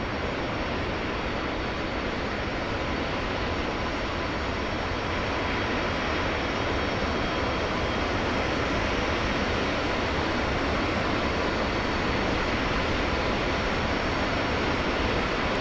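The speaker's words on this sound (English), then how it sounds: "Let's take a moment and watch a couple of the M-2000Cs taxi by." Several Mirage 2000C jets taxiing past in the DCS World flight simulator, modelled by RAZBAM: a steady, loud jet-engine roar and whine that holds throughout with no talking.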